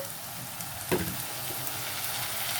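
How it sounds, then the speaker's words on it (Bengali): Sliced onions frying in a pan for a mutton curry as a spoonful of garlic paste goes in: a constant sizzling hiss with one soft thud near the start. "পেঁয়াজগুলো ভাজা হয়ে গেছে। এবার এর মধ্যে 1 চামচ দিয়ে দিচ্ছি রসুন বাটা"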